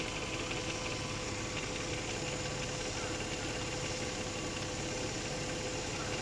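Steady droning hum of a Pelsee 3500A portable air compressor inflating a car tire, running continuously and fairly close with no breaks or speech.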